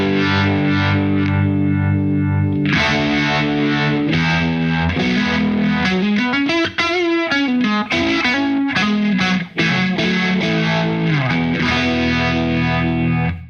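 Electric guitar played through an Eventide Riptide pedal on its first preset into a clean amp channel, loud and continuous, with sustained chords giving way to a warbling, shifting modulated passage before steady chords resume.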